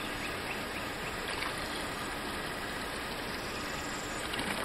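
Water poured out of a 32-ounce bottle outdoors, a continuous, steady rushing splash that holds at an even level for the full few seconds with no talking.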